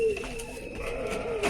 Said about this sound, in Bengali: একটা মেল পায়রা